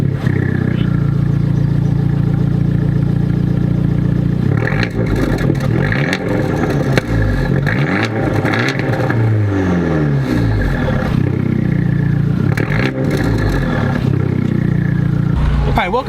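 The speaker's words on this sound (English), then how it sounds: "So you can hear that exhaust." Fiat 124 Abarth exhaust roaring continuously while driving with the roof and windows down, a loud sustained engine note that rises and falls through revs and gear changes, with talking over it.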